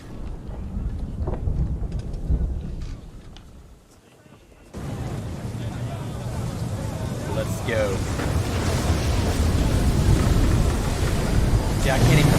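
Stormy sea around a wooden sailing ship in Assassin's Creed 3, with a steady roar of wind and crashing waves that dips briefly then swells louder, while voices speak over it.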